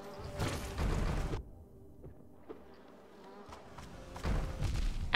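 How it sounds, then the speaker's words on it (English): Bees swarm in Hollow Knight, a droning buzz that swells in two close bursts at the start and end with a quieter stretch between. "Too many bees!"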